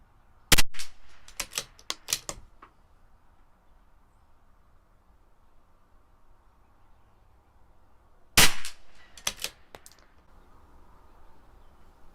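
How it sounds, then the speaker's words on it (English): CZ 457 .22 rifle firing Norma Match 22 rounds outdoors at 50 yards: two separate sharp cracks, each followed by quick metallic bolt and action clicks, with quiet between. "Two more shots. Finish up this group."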